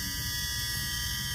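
A steady, continuous electronic door-open warning buzz from a 1975 Pontiac Grand LeMans drones without a break, a constant tone over low background rumble.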